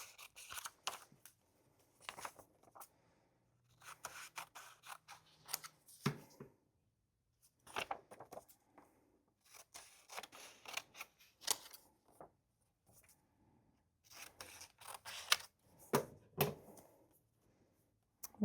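Scissors snip through paper to trim a cut-out picture for a journal page, in a string of short crisp bursts of cutting with brief pauses between, close and fairly quiet.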